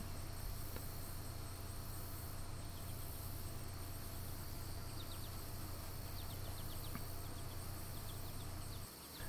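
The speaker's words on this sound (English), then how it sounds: "Now listen to the difference in wing frequency. That's a yellow jacket flying by me." A yellow jacket wasp's wings buzz steadily as it flies past in a honey bee yard, a thin droning hum over constant outdoor insect noise and a low background hum.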